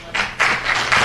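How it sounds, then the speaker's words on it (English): Brief bursts of audience clapping at a public zoning hearing, three or four short swells of applause in a room, fairly close and moderately loud with no talk over them. "No clapping, just go like this."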